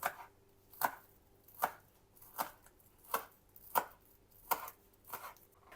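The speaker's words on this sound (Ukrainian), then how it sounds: "Нарізаю цибульку." Knife chops green onion on a cutting board in about ten evenly spaced, crisp taps, close and fairly quiet.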